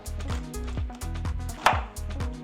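A knife shreds a red cabbage on a cutting board, making a handful of crisp, evenly spaced chopping strokes up close, about two per second, with the blade thudding against the board.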